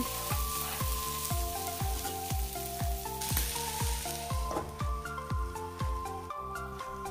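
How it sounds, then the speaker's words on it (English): Cashew nuts frying in oil in a pan over a low flame, a continuous soft sizzle with regular rhythmic stirring strokes, close and steady with no talking. "Fry it well, low flame."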